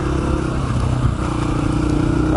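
Engine of a small 150cc motorcycle running steadily during a ride, a continuous low mid-range drone with slight revving variations, close and loud throughout.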